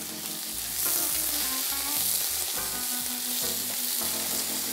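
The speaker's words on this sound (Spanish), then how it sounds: "arrancarnos con este sonido que tanto nos gusta, que es el sonido del fondo de las ollas" Clams sizzle and fry at the bottom of a pot for a clam and monkfish americana dish, a loud steady hiss with bursts of crackling and stirring and no talk.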